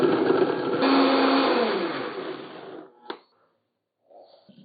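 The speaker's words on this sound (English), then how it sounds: "These should be ready to blend." A blender whirs loudly through a kombucha pecan pie mixture sweetened with maple sugar, running steadily for about three seconds before cutting off, followed by a short clunk and faint rustling.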